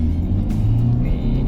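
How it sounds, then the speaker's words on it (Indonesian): Hyundai Stargazer driving at about 40 km/h through a cone course, a steady low engine and road rumble heard from inside the car with no talk. "Kita bawa dia di kecepatan 40 km per jam untuk melalui lintasan kon ya"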